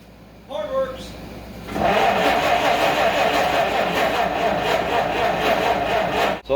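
1934 Plymouth engine cranking and trying to start but not firing, with a brief rattle followed by a loud, steady churning whir from the starter that runs on for several seconds while a person talks.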